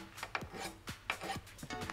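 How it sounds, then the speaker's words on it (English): Rasping strokes of a file working the end of a cut length of wire clamped in a vise, several short scraping passes in an uneven rhythm, close and fairly quiet with no talking. "Chuck that in a vise and file one of the ends nice,"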